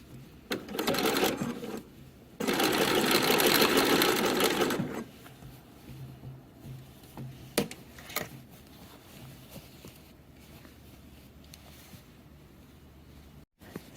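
Sewing machine stitching a shirt seam: a short run, then a longer steady whir lasting a couple of seconds, followed by quiet clicks and handling sounds as the stitching stops for adjusting.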